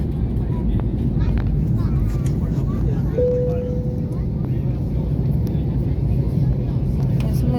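Steady, loud low roar of airplane cabin noise during the landing approach, a dense engine and airflow rumble filling the whole stretch, close and constant.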